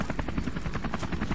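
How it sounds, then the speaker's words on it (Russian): A Black Hawk helicopter in Call of Duty: Modern Warfare Remastered thuds overhead with a loud, steady, rhythmic rotor chop that fills the scene without any speech. "Вертушка. Черный ястреб."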